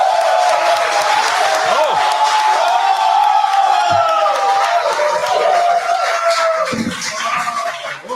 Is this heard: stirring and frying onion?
no